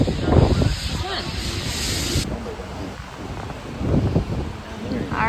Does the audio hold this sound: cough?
no